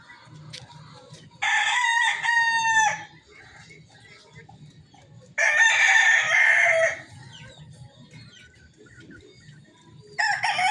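A Mel Sims Black rooster crows loudly and close by, two full harmonic crows a few seconds apart with a third starting at the end, over a low constant background hum.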